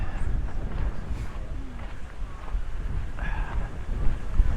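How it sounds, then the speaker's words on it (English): Wind buffets the microphone in an open square at Kongens Nytorv, Copenhagen, a continuous low rumbling roar with faint city sounds in the background. "Man, it is windy today."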